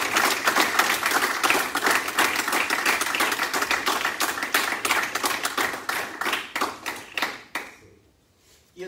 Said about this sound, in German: Er kriegt einen ganz großen Applaus.